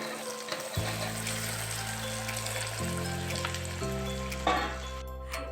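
Heated oil poured over Assamese jolphai olives with turmeric for pickle gives a soft, steady sizzling crackle under background music, with a brief louder splash near the end.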